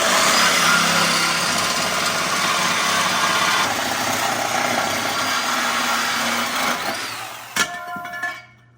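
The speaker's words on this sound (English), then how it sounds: "Sawzall time, baby." A Sawzall reciprocating saw cuts through a car exhaust pipe on a Cadillac. The saw runs steadily and loud for about seven seconds with a harsh, buzzing, grinding rasp, then breaks off in a sharp clank and quickly dies away.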